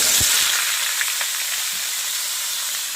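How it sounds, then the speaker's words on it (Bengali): Cut potatoes and pumpkin stir-fry in hot oil with five-spice, bay leaf and dried chilli, making a loud, continuous close hiss of sizzling with only faint stirring knocks beneath it. "নেড়ে চেড়ে দিয়ে দেবো আমি এই যে কাটা আলু আর কুমড়োগুলো"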